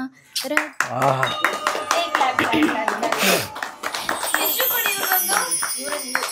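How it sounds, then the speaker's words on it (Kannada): Applause at a home Ganesha festival celebration after a devotional song, a burst of hand clapping from a small crowd mixed with voices talking over it. "ಚಪ್ಪಾಳೆ"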